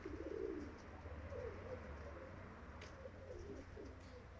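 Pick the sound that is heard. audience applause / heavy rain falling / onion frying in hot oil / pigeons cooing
pigeons cooing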